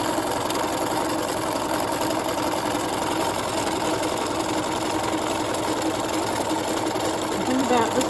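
A sewing machine runs a straight stitch around a fabric Valentine heart, a continuous fast mechanical whirr with rapid needle chatter, close and steady throughout, with a voice talking over it.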